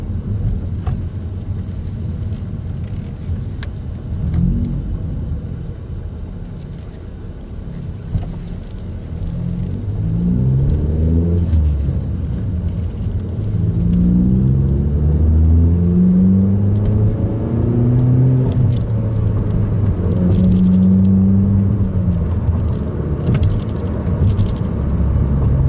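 A car with a manual six-speed gearbox drives and upshifts: a low engine rumble quietens, then rises again with climbing revs that build and level off as it pulls away steadily.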